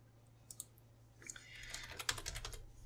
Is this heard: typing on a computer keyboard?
yes